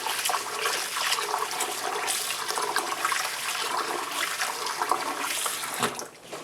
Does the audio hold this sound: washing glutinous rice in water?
yes